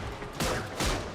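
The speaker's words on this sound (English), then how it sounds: "the hacking is over, but there's enemies shooting at us" Enemy gunfire in Warframe crackles in two short, loud, close volleys against a noisy, busy background.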